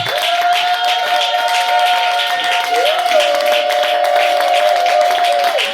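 Church congregation at a women's conference applauding and cheering, a dense sustained wash of clapping and voices with a steady high tone running throughout, loud and continuous.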